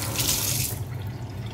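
A kitchen tap runs steadily into a basin to soak beef in water, a close, brief gush that eases off partway through.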